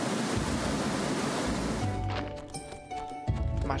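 A waterfall beside a swampy fishing spot in the Graveyard Keeper video game pours out a dense, steady rush of noise, then cuts away after about two seconds to quieter ambience with a few soft thuds.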